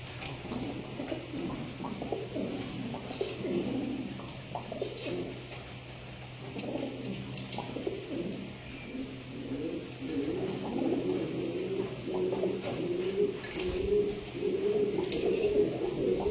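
Fancy pigeons coo steadily in a village breeding loft in Namkhana, South 24 Parganas, the soft, low, throaty calls overlapping in a near, continuous murmur with faint shuffling and a few light knocks in the background.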